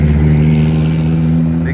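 Custom-built car with a big turbocharged engine at a car cruise, a loud steady engine drone close by with people talking over it.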